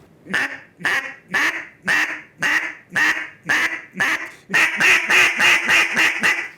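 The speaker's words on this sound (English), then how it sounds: "Little light quacks." An RNT Calls Rockin R duck call blown in short, light quacks, evenly spaced at first, then a faster run of chattering quacks, close and clear.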